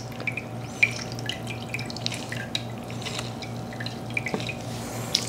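Water drips steadily as pickled bitter melon is squeezed by hand in a kitchen, with small irregular drops and splashes over a low background hum, close and fairly quiet.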